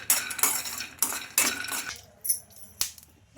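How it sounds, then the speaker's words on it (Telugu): A spoon scrapes and clinks against a kadai pan while stirring peanuts as they dry-roast, in about half a dozen close, rhythmic strokes separated by brief pauses. "ఈ పల్లీలు కొంచెం కలర్ చేంజ్ అయ్యే వరకు అయితే వేయించుకోవాలి"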